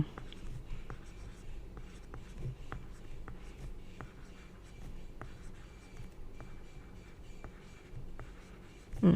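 Pen strokes from a teacher writing on paper during a Grade 4 maths exercise lesson, a steady scratching with regular tapping marks running throughout, close and moderately quiet, with no speech over it.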